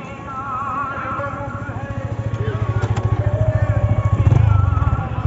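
A motorbike rides along a road, its engine drumming in a steady rapid pulse that grows louder and rougher toward the end, with voices faintly underneath.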